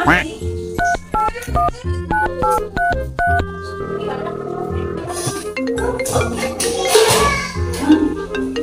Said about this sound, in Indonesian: suara telepon